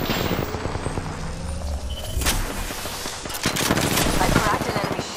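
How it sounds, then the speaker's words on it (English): Gunfire in Apex Legends, with rapid automatic bursts and single shots close by and loud, building in density toward the end, under a player speaking over the shooting. "They're shooting at me."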